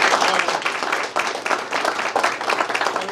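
Brisk applause at a press conference, close and lively, with irregular bursts of individual claps over about three seconds.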